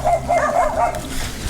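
Several dogs bark in a quick, repeated volley, loud and fairly close, with yips mixed in, over faint background noise; no speech is heard.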